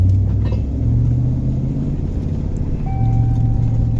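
A steady, loud interior rumble of a Federal Tahoe bouncing across an uneven old farm field, with low engine drone and knocking jolts and no talking.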